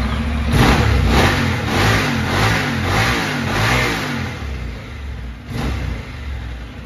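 A Honda NC750S ABS motorcycle with a parallel twin engine starts up and revs in several quick throttle blips, then settles toward idle before one more brief rev, loud and close with no talking.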